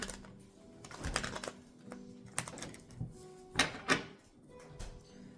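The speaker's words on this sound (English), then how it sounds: "Let's go ahead and shuffle these cards back in." Tarot cards shuffled by hand at a close table: a series of soft riffling bursts and papery slaps in an irregular rhythm, with brief quieter gaps between handfuls.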